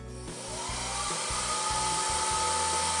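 A Xiaomi Soocas H3 anion hair dryer runs on its boost setting with a loud, continuous whirring rush of air and a high motor whine, close up and with no talk.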